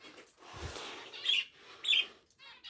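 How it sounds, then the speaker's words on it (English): A budgerigar gives a few short, high chirps close by in an indoor bird room, with soft rustling between the calls. "there's the budgie"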